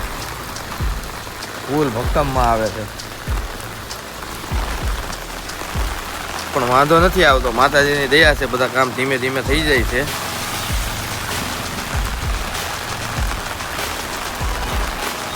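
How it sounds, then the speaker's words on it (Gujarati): Steady rain pattering on surfaces throughout, close and constant, while someone talks over it in Gujarati near Bapa Sitaram Chowk. "વરસાદ તો ઊભો જ નથી રહેતો."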